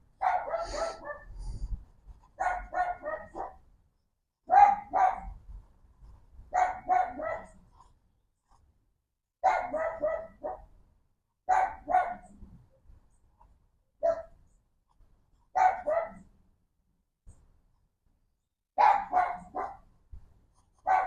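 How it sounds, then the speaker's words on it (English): A dog barks in repeated bursts of several sharp woofs, loud and close, with short pauses between volleys and no talk over it. "I don't even know like what that dog is barking at, honestly."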